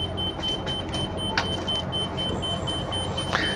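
Faint repeated beeps from a 2024 Forest River Berkshire XL 40E motorhome with a 380 HP engine sound over a low background hum with the ignition on and auto leveling engaged, and no voices are heard.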